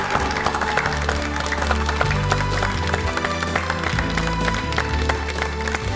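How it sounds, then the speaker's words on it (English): Applause for a child contestant on a kids' television quiz show at an elementary school, clapping mixed under loud upbeat music with a steady beat and bass line. "so give them a round of applause"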